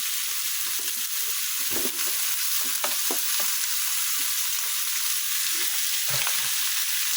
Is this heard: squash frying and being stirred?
yes